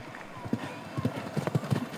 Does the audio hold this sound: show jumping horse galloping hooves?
yes